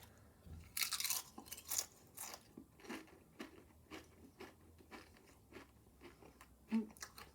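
Crunching on Paqui ghost pepper corn chips, a string of close, dry crackling bites and chewing bursts coming at an irregular pace, louder at first and then easing, with no talk.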